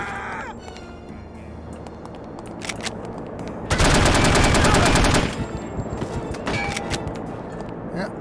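Rapid automatic gunfire loaded with dum-dum rounds in the spy shooter No One Lives Forever, one sustained burst of over a second, then scattered single shots and game effects, loud and close.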